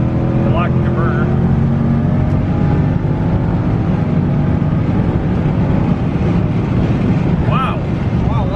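A cammed Hemi Ram truck with a ported 6.4 intake manifold drones loud and steady under hard acceleration, heard from inside the cab with heavy road and wind roar. A voice speaks briefly over it.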